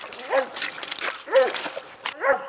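A coon hunting dog bays at a treed raccoon, three loud near drawn-out barks at regular intervals with quieter yips between them.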